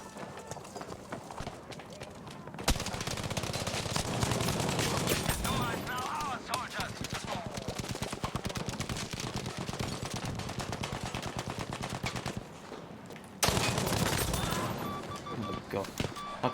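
Battlefield 5 gunfire in long, dense automatic bursts that hammer on for about eleven seconds, then break off briefly and resume near the end, loud and close.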